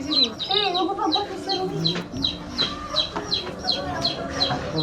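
Chicks peep in a steady series of high, repeated chirps, with hens clucking lower underneath, close and fairly loud throughout.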